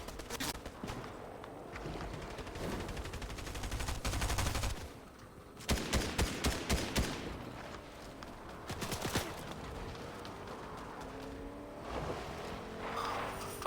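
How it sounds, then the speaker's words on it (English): Gunfire in the video game Fortnite, in a duos rumble match: repeated bursts of rapid automatic shots and single cracks, some loud and close, others more distant, over a steady background. "I keep seeing gunfire and no one."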